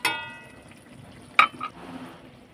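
A metal spatula stirs lote fish curry with brinjal and fresh coriander in a pan, giving a single sharp clink near the middle and a few soft scrapes and faint liquid stirring noises around it, close and quiet.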